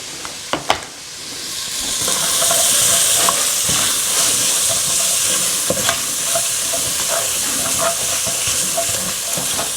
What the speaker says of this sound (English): I'm going to deglaze this once I pour my liquid in here as well